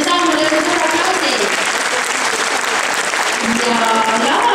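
Dense, loud audience applause at a school band concert, continuous clapping throughout with a crowd murmur underneath.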